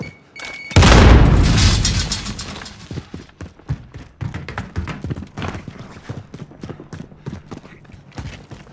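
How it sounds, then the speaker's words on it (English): A frag grenade explodes in a video game: one loud, close blast near the start, with a long rumbling decay and scattered sharp impacts after it. "Throwing frag grenade."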